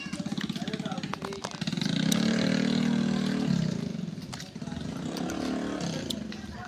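Several motorcycles passing close by, their engines droning and swelling loudly one after another in a steady rush of traffic.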